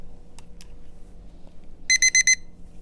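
A digital kitchen timer set for three seconds goes off with four quick, bright, evenly spaced beeps at close range, preceded by a couple of soft button clicks over quiet room tone.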